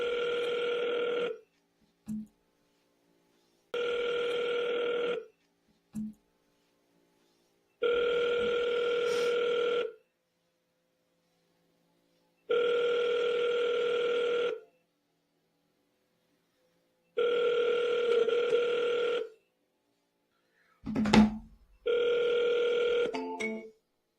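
A telephone call tone repeats in long, even bursts about five times, separated by silent gaps, with a brief clunk and rustle near the end; no one talks.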